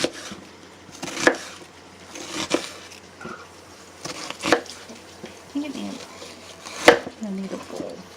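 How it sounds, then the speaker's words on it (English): A knife cuts through an onion on a board, a series of sharp, separate chopping knocks at irregular intervals, near and clear, with a voice talking between the cuts. "She's gonna fillet this onion like a fish."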